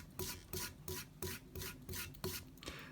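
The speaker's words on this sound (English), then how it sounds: "Now I'm going to use my swivel knife." A Barry King swivel knife with a thin blade cuts leather for a cowboy fast-draw holster: quiet, regular scraping strokes, about three per second, close up with no talking.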